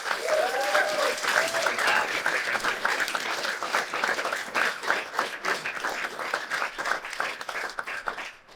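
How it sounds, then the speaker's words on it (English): A conference audience at a startup demo day breaks into sustained applause welcoming a speaker to the stage, dense steady clapping filling the room for several seconds with faint voices mixed in. "So please welcome to the stage with a huge round of applause, Dr. Alice Isles."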